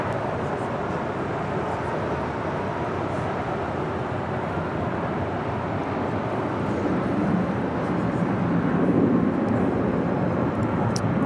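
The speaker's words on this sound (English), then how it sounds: "Followed by Delta Airlines Flight 799 heading to Minneapolis in an" A Delta Airlines Airbus A321 departs Los Angeles airport with a steady broadband jet roar that holds throughout and swells slightly near the end, heard alone at a moderate distance.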